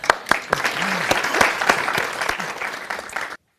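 A live comedy audience breaks into steady applause that runs for over three seconds at a stage show, the clapping dense and fairly close, then stops abruptly.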